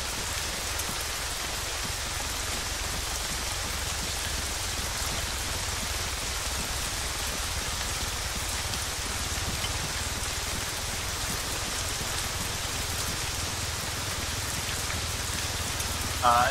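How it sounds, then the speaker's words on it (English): Steady rain pours throughout a tactical military session in ARMA 3, a dense, even hiss that stays constant from start to finish with no voices over it. "I fucking hate this rain!"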